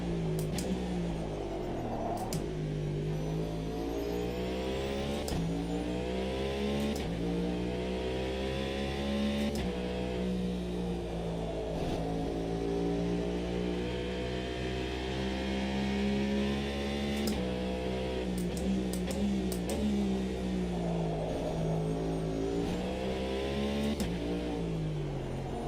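LMDH prototype race cars in Automobilista 2 drone loudly throughout, with the engine pitch sweeping up and down through repeated gear shifts and sharp clicks at each change.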